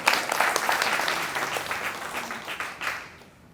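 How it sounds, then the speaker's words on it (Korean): A church congregation at a summer retreat service claps together, a loud burst of applause that thins out and fades away. "박수 한번 쳐주세요."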